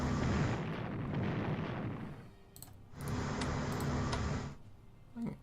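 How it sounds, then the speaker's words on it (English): Battlecruiser guns firing in a WWII strategy game, two heavy rumbling blasts with a short gap between them, each followed by a fading roar and a few faint clicks. "Well, the battlecruiser already fired"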